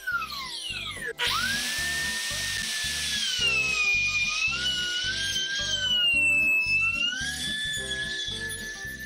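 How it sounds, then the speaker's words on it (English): A router bit plunging into a walnut table leg to cut mortises in repeated passes, a loud steady high-pitched whine that rises and shifts in pitch as it bites into the hardwood, running close and continuously throughout. "slowly lowering the router bit in multiple passes to a depth of about 1 inch"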